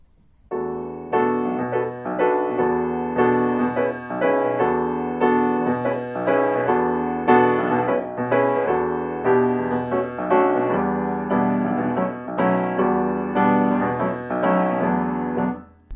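Jazz piano plays a lilting waltz rhythm, steady chords repeating in threes, full and close, with no voices.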